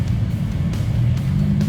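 A Lamborghini Huracan rolls through traffic with a loud, steady low engine drone, close and continuous, with small surges and no voices.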